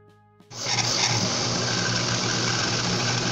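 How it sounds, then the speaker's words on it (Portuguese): A blender starts abruptly on grated corn and runs at a steady, loud whir, its motor droning continuously after a brief quiet moment. "Colocar no liquidificador"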